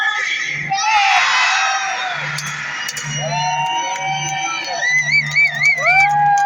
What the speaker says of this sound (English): I want this wild audience to scream fight!